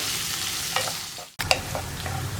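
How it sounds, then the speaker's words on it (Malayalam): Sliced onions stirred and sautéed in a pan until light brown for an onion curry, giving a close, continuous sizzle with scraping stirs and a few sharp utensil clicks, broken by a very short drop-out partway through. "ഇനി സവോള ഒന്ന് ലൈറ്റായിട്ട് ബ്രൗൺ ഷെയ്ഡായി വരുന്നത് വരെ ഇളക്കി കൊടുക്കുക"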